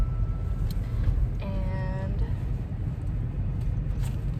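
Steady low road rumble of a car in motion with a puppy riding inside, a continuous near hum throughout, with a voice briefly heard over it.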